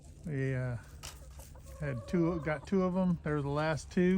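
Hens on a free-ranging homestead cluck repeatedly in short, close, loud bursts, mixed with people talking nearby.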